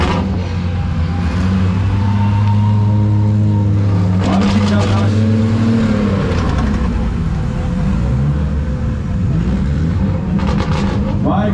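Race cars at the Speedland track drive off the circuit, their engines droning and revving loudly nearby, with several passing surges under continuous talking.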